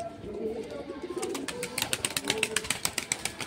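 Pigeons in a loft, including Dasu, white Chotial and Andhra breeds, give low repeated coos alongside a run of sharp, rhythmic clicks or wing claps that grows in the second half, close by with no talk.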